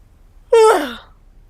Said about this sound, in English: The man let out a big yawn